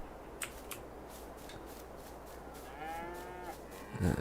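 Cattle moo in the Farming Simulator 22 video game, with a drawn-out, wavering low moo rising near the end over a quiet, steady farm ambience.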